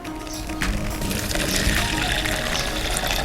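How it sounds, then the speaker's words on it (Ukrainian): Water poured into a separate container holding a measured dose of fungicide powder for treating grapevines, a steady gushing, splashing pour close by that runs continuously and grows slightly fuller as the vessel fills. "Додаю трохи води"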